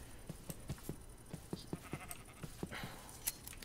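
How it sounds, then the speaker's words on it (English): Minecraft sheep bleat repeatedly in short, faint, evenly spaced bleats over a quiet in-game background, with no talking. "So I'm just going to go shear a few sheep here real quick."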